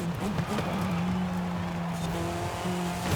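A race car in Forza Horizon 5 corners hard, its engine droning loudly and continuously while the tires squeal in sustained tones through the turn.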